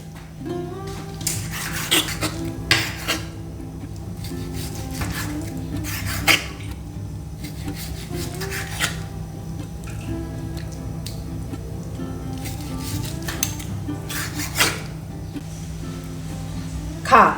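A knife slices pork across the grain on a cutting board, taps and chops irregular and close, over a steady low background hum with occasional sharper knocks.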